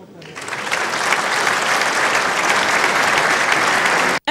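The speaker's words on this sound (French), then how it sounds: "Un exposé sur les ambitions du Burkina qui séduit et qui vaut à Paul Kabatieba une salve d'applaudissements" Sustained round of applause from an audience after a televised speech by a government chief, steady and dense clapping rising at the start and cutting off abruptly near the end.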